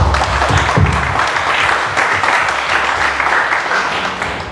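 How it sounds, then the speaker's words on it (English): An audience at an event opening in Mumbai gives a dense, sustained round of applause, loud and continuous, with no talking. "So, a big round of applause for Big Rock."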